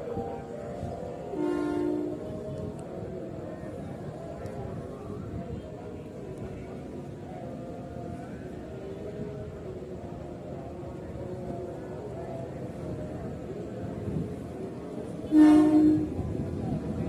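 A KRL commuter train departing Manggarai station in Jakarta, heard from above: a long steady rolling rumble with a short early horn burst and a louder horn blast near the end, with voices talking under it.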